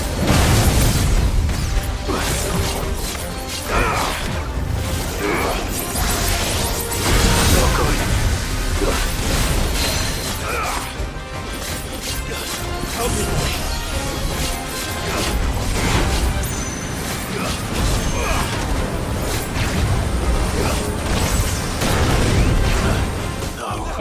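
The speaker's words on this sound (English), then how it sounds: "I can't see because of the explosions that are happening around me" Dense, continuous battle noise from Final Fantasy XVI, with repeated explosions, crashes and mechanical clatter layered over a loud rumble, under a speaking voice.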